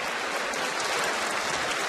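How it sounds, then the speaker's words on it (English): Fans inside Kaplan Arena at the College of William and Mary give a sustained round of applause during a college basketball game against JMU, a dense, even wash of clapping heard on its own. "Getting a nice round of applause here by a very classy group of fans at Kaplan Arena"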